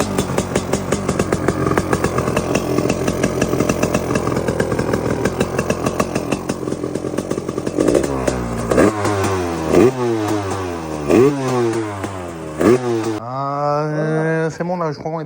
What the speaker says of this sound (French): Je vais le couper, la moto, elle va redémarrer.